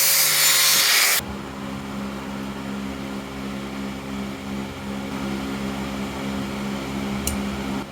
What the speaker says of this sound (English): Just going to grind a bit of a flat on here and on the underside of there